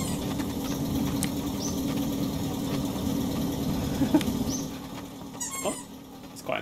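Bus engine droning in The Long Drive, a steady, fairly loud low rumble that eases somewhat toward the end, with a few scattered clicks and short chirpy game sounds over it; no voices.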